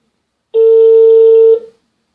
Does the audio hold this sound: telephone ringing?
yes